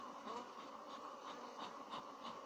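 Bees buzz around an open hive, a quiet, steady drone with swelling pulses as insects fly past, close to the listener and without talk.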